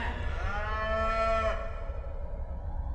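Free-range cattle in the open spaces of the American West low with one long, drawn-out moo that fades off, heard clearly and alone against quiet.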